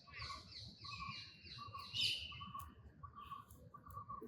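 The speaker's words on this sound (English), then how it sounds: "Kuş seslerini dinliyorum." Several birds sing and chirp in a forest in repeated short phrases over a soft, rustling background, with one brighter call standing out briefly.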